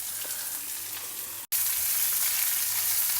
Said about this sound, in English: First saute the cluster beans in the oil for a few minutes.